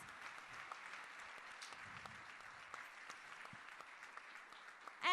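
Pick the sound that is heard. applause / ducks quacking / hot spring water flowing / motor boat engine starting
applause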